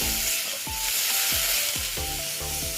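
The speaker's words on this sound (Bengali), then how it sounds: "তারপরে দিচ্ছি আদা বাটা দিয়ে আমি এটা একটু কষিয়ে নেব" Ginger paste sizzling in a hot pan with bitter gourd and potato, a steady frying hiss throughout with repeated scrapes and knocks of a spatula stirring the pan, close and fairly loud with no talking.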